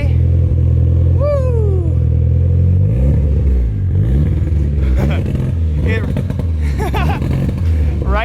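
Mitsubishi Evo 3 with a big turbo running on roughly E90 ethanol through an HKS Carbon Ti exhaust, revving hard up close in a few rising and falling pulls with turbo whistle and clatter, while a person whoops and shouts over it.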